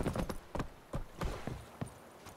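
Horse hooves clip-clop in quick galloping rhythm in The Witcher 3 video game, a handful of distinct thuds over a steady background of ambient noise, moderately close.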